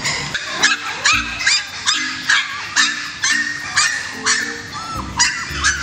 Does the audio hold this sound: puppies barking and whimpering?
yes